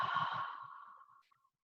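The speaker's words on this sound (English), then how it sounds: "Adding your Ujjayi breath by breathing in through the nose and making that oceanic sound" Ujjayi breathing during a yoga class, air drawn in through the nose with the back of the throat narrowed, giving a single soft, hissing ocean-like exhale that fades out over about a second, close and alone.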